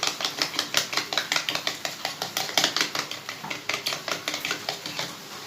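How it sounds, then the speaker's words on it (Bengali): Flour batter being mixed with water in a bowl, a steady run of quick clinking, tapping strokes repeating rhythmically throughout, fairly close and with no talk. "এই ময়দাটার মধ্যে আমি একটু জল দিয়ে গুলিয়ে নেব এইভাবে"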